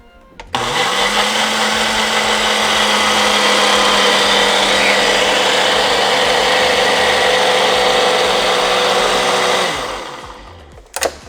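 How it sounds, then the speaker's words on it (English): A blender mixing an almond milk protein shake spins up abruptly and runs as a loud, steady whir for about nine seconds before winding down and stopping. "put it on the blender."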